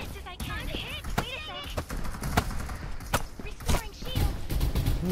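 Gunfire in the video game Farlight 84, sharp shots cracking repeatedly in uneven bursts, close and loud, with a player talking over it and game voice lines.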